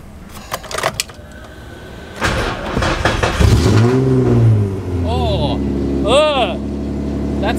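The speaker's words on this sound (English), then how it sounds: "So, I haven't checked anything, so see if this thing fires up" Ford Courier pickup with no muffler cranking and starting, then revving loudly with harsh, raw exhaust rising and falling and idling roughly close by, with a person talking at points over the engine.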